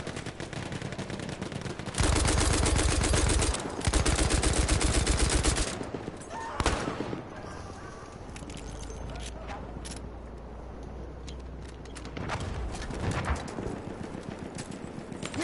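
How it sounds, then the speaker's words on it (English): Gunfire in the video game Battlefield 1: dense bursts of automatic and single shots in two loud stretches, then sparse distant pops and impacts, with players talking over the action. "I'm hearing gunshots."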